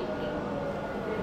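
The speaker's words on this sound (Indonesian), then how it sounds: "Suasana kereta di sini" Steady rumbling interior of a moving commuter train, a continuous broadband drone with low-frequency rattle, close and even throughout with no speech.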